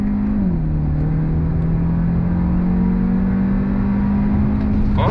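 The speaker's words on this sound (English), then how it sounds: "drop it down. First gear, on throttle." A 2022 Hyundai Elantra N Line accelerating on throttle in first gear, its engine droning loud and steady with pitch rising slowly after a brief dip, heard from inside the cabin with no talking.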